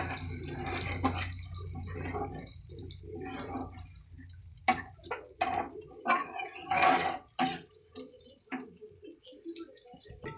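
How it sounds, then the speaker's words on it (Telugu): Water poured into a cooking pot makes soft, uneven splashing and dripping sounds, close and fairly quiet, scattered over a low background rumble, with no one speaking. "నీళ్ళు వేసింది"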